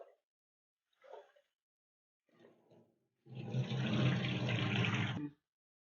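Water runs and sloshes steadily for a couple of seconds after a few brief rustling splashes, as lentils are washed in a pot.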